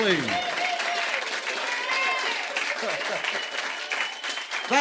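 A live studio audience claps and cheers after a 1977 performance by the Stonemans, with steady applause and some whistles throughout.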